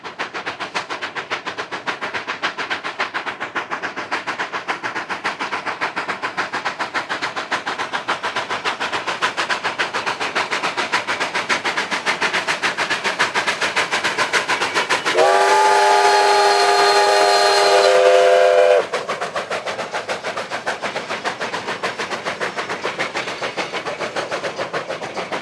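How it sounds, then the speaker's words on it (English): Durango & Silverton steam locomotive 481 pulls into Silverton at 9,300 feet with a steady chuffing, clanking run, then gives one long, loud whistle blast of several seconds before the rolling train noise carries on. "Engine 481 with the first train was seen coming into the town of Silverton."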